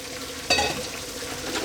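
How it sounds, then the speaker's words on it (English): Pasta being stirred into a meat sauce in a pan, a soft background sizzle broken by one brief scrape of the spoon partway through. "we're now going to put in our pasta"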